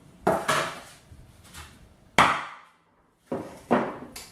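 A corrugated box clip crushing tool is tapped lightly several times, giving sharp knocks in pairs and singles with short decays and pauses between, close and clear without talk.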